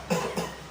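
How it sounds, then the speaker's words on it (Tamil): Two quick coughs, close to the microphone, the second a little softer than the first. "வணக்கம் சொல்கிறப்போ ஒரு இருமல் வந்துச்சு."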